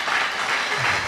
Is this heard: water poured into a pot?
no